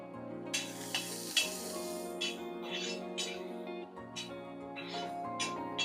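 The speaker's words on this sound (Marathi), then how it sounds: "कांदा चांगला ब्राऊन होईपर्यंत आपण भाजूया।" Chopped onions frying in oil in a pan for a curry masala, giving a steady soft sizzle with occasional stirring scrapes under continuous background music.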